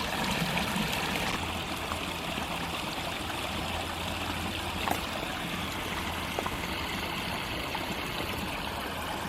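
A stream of water trickles and babbles steadily over a trail in the New Jersey Pine Barrens, a constant flowing rush with small splashes and no talking.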